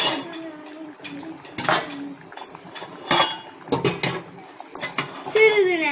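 A lid goes onto a clay pot of fish curry with a few clinks and knocks amid other kitchen handling, close by, with a voice speaking briefly.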